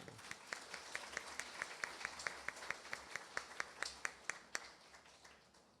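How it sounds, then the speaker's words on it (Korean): A church congregation at a founding service claps in a steady, evenly spaced rhythm, each clap crisp and distinct above faint room noise, the beat stopping just before the end. "박수 한번 해드리겠습니다."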